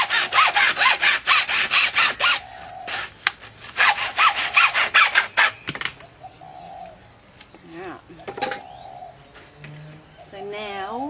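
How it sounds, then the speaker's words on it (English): A hand saw cuts through PVC pipe in a garden with quick, rhythmic back-and-forth rasping strokes for several seconds, then stops, while pigeons or doves coo and other birds call in the background. "So I'm just going to cut through this."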